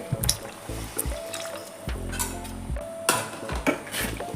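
Water from a glass is poured into mutton curry in a pan, with faint splashing, clinks of utensils against the pan and a trickle, all quiet and close.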